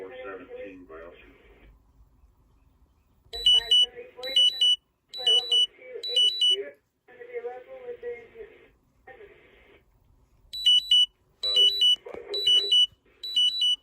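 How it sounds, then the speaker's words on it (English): An alarm sounds in repeated bursts of high electronic beeping, alternating with stretches of radio-like talk and broadcast audio, loud and close, with brief silent gaps between segments. "My alarm going off"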